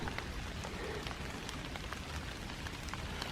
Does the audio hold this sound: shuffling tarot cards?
no